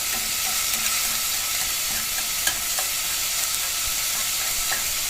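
Sliced onion sautés in a pan with broken cardamom and garlic, giving off a steady, even sizzle with a few faint clicks of stirring and no voices.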